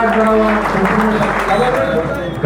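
Loud, steady applause from a gathered audience at a ceremony honouring classmates, a continuous dense clatter of clapping hands running throughout with a low voice murmuring underneath.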